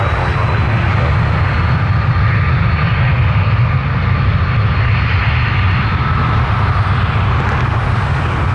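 An airliner approaching to land at Toronto Pearson airport produces a loud, sustained jet engine roar with broad rumbling noise throughout.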